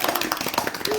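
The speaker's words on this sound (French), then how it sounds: "On va l'applaudir, mais là c'est rien que pour lui." Brief burst of audience clapping welcoming a new member of a French broadcast team, a short patter of hand claps under a speaking voice.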